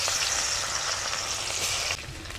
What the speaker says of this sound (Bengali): দিয়ে দিব থেতো করা রসুন